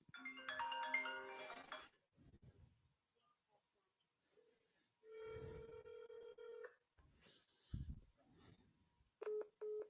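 A phone number being dialed on a telephone, with a burst of layered dialing tones, then a steady tone and short separate beeps broken by quiet gaps, all faint.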